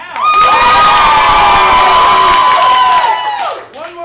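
A game-show studio audience claps and cheers loudly for a contestant, a sustained burst of crowd noise with shouting voices that rises quickly, holds steady, then fades near the end.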